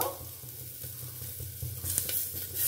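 Chopped onion frying in a pan for a ridge gourd sabzi, a low steady sizzle with a few soft stirring scrapes near the end, close and fairly quiet.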